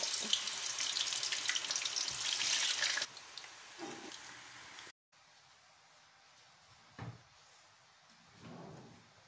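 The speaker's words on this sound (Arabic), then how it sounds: "نضع البطاطس بالتدريج وليس دفعة واحدة لكي لا يبرد الزيت" Potato pieces are added gradually to hot oil, which sizzles with a loud, dense hiss for a few seconds. The hiss then drops to a faint background, broken by a few soft knocks and clatters.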